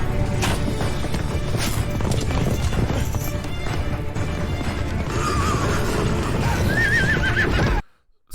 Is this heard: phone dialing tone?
no